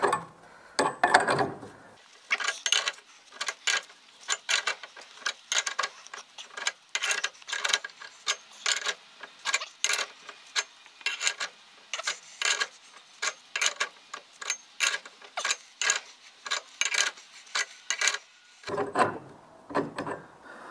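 A ratchet wrench turns on the front wheel bearing of a Peugeot 104 GLS car, giving fast, close, rhythmic clicking strokes repeated steadily for most of the stretch, with no speech.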